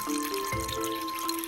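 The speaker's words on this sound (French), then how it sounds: "On couvre d'eau." Water poured into a jar over a spoonful of mung bean seeds, a short, steady trickle with rising tones as the jar fills.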